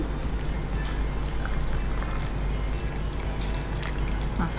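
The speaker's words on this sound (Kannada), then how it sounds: "ಸ್ವಲ್ಪ ನೀರು ಹಾಕಿ" Water poured into a purple fruit juice mixture, a continuous trickling and splashing stream close by, steady throughout with no talk over it.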